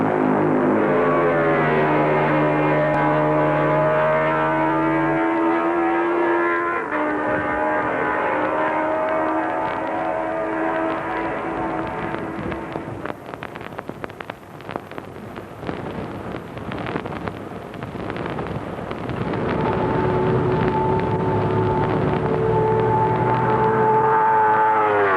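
An MV racing motorcycle engine screams past at the Isle of Man TT in the 1950s. Loud harmonic engine notes rise through the gears, fall away with a Doppler drop, then build again as another run approaches.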